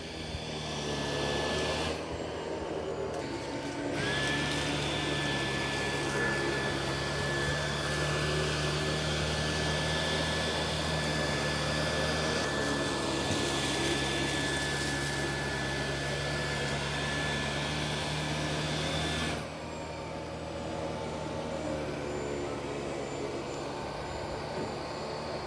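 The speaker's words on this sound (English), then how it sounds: "here it is vacuuming carpet" A Dyson 360 Vis Nav robot vacuum runs over carpet with a loud, steady whirring motor drone and whining tones, the pitch and intensity shifting slightly as it moves, then dropping a little near the end.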